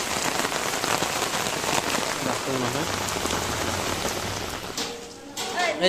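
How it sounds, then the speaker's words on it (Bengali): Steady rain falls outdoors at a village wedding in Chattogram, a dense, continuous patter on surfaces throughout, with faint voices and a brief tonal sound in the background near the end. "হঠাৎ করে আবার বৃষ্টিও শুরু হয়ে গেছে"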